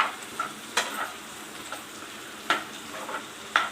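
Vegetables frying in a pan for white sauce pasta, a soft steady sizzle with a few sharp clicks of a utensil against the pan scattered through, no talking.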